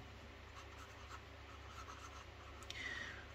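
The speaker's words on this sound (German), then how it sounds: "am besten zeige ich euch mal gleich, wie er schreibt" Pineider La Grande Bellezza fountain pen nib scratching softly across paper, a faint continuous scribble of short strokes, quiet and close, with no voices.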